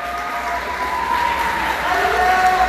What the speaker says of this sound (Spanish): Estos fuertes aplausos, ¿dónde están? Para ellos.